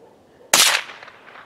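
A single sharp gunshot from a gun fired by a young boy at an outdoor shooting lesson cracks out suddenly, loud and close, then fades into a short echoing tail.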